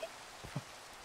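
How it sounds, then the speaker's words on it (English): Steady rain falling in the video game Minecraft, a faint, even hiss with a couple of soft drop-like taps, heard alone without any talk. "oh, it's always raining"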